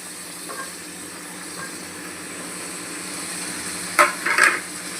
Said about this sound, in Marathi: तर यात आपल्याला हे व्हेजिटेबल सगळ्या भाज्या घालायच्या.